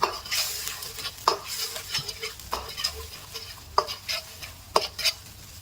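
Curry paste and coconut milk stir-fried in a pan for prawn chu chee curry, with a soft continuous sizzle and repeated scraping strokes of a utensil against the pan, close and steady.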